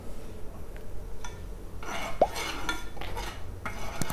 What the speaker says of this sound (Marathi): अशा प्रकारे हलवत राहायचं आहे, हलवण्याने सगळं मिक्स होतं